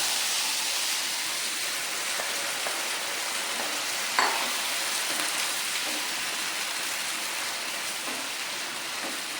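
Pork cooked with black pepper powder and garam masala fries and gets stirred in a pan, a steady hissing sizzle throughout with a few soft scraping stirs and one brief clink midway, no talking.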